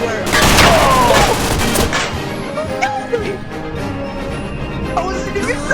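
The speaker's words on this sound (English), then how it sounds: "I'm being shot at from everywhere." Gunfire in a VR shooting video game, a loud, dense burst of rapid shots up front that thins into scattered pops and crashes, with an excited voice mixed in.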